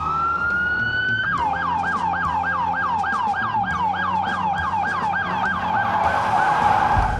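A police car siren wails in a fast, repeating up-and-down yelp, loud and steady over the hum of traffic, with no voices.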